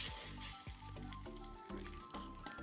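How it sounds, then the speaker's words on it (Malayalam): Grated coconut roasting in a pan for a shallot and drumstick theeyal, stirred repeatedly, a steady close sizzle broken by soft spoon scrapes every half second or so. "തേങ്ങ ഏകദേശം മൂത്ത് വന്നിട്ടുണ്ട്"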